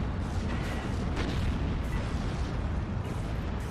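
A Calliope rocket launcher fires in Steel Division 2, producing a dense continuous roar of launches and distant booms with no clear gaps.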